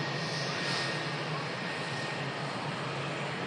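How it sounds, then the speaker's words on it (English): Virgin Atlantic Airbus A330 jet engines spool up for the takeoff roll, a steady broadband roar heard from a distance, with no voices. "As the Virgin Atlantic 330 commences the spool up and takeoff roll"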